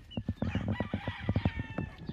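Age cock roosters on a master breeder's farm in the Philippines give a rapid series of close clucks and short calls, with a crow mixed in. The calls are quick and overlapping.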